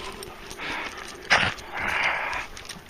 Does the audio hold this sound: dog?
yes